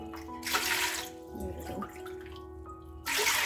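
Water splashes into a vessel holding sago in short pours, a close burst at the start and another at the end with quieter trickling between.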